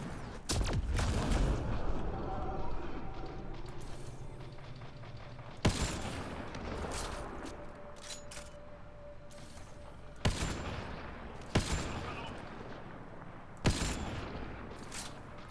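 Gunfire in Mass Effect: Andromeda starts as a loud, rapid burst during the first two seconds, then a few sharp single shots crack out at spaced intervals against a quieter game background.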